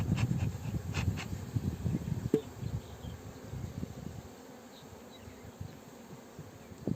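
Agitated honeybees buzz around a hive close by, a dense droning swarm with occasional louder passes, fading slightly toward the end.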